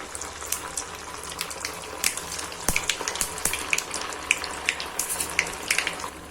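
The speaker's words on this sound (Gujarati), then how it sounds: "હવે આપણે તળી લેશું." Sabudana tikki fry in hot oil, giving a bright crackling sizzle with quick popping bursts that grow busier over a few seconds, close and with no voices.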